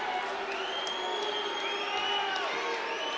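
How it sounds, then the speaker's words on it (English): A large arena crowd at a mixed martial arts fight roars and whoops steadily throughout, a loud sustained wash of voices with rising and falling shouts. "I don't know why the crowd is booing."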